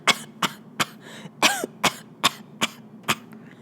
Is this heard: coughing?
yes